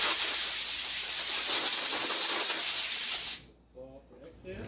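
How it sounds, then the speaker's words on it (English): A steady, loud aerosol spray hisses continuously for a few seconds onto a McCulloch 10-10 chainsaw recoil starter spring, then cuts off abruptly, leaving quiet background noise. "We're just going to spray it down."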